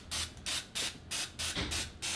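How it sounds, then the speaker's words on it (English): Cooking spray hisses from an aerosol can onto a muffin tin in a kitchen, seven short even bursts in a steady rhythm, close and clear with no talking. "I'm just spraying my nasty looking muffin tin"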